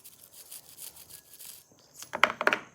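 A nylon brush scrubs oil off small Edison governor parts, soft repeated rubbing strokes that are faint at first, then a few louder, sharper scratching bursts near the end, without speech.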